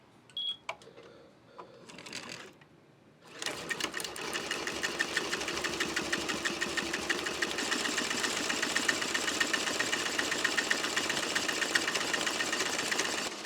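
An embroidery machine stitches through a thick purse held in a Mighty Hoop. A few faint clicks and a short whir come first, then it settles into a steady, rapid mechanical chatter of needle strokes that keeps going, close and fairly loud.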